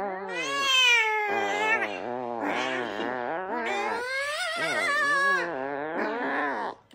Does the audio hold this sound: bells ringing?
no